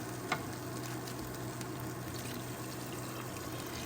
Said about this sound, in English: What you're gonna do is then you're gonna add your water